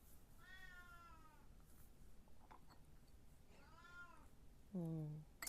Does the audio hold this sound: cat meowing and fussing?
yes